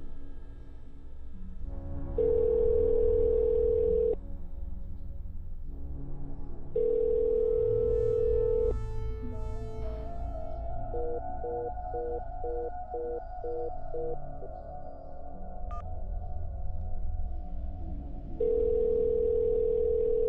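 A phone call rings out unanswered, a steady electronic ringback tone repeating in long even bursts with pauses between, over a low background hum; it sounds clear and close, with no talking.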